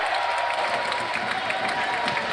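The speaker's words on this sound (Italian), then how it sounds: "E arrivano gli applausi dagli spalti del Pala De Gasperi." Applause rises from the stands at the Pala De Gasperi during a Serie A2 futsal playoff final, a steady, moderately distant wash of clapping from the crowd.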